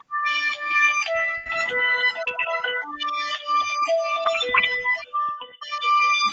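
A cell phone ringtone plays during an online meeting: a bright electronic melody repeating continuously for several seconds, fairly loud, with no voices over it.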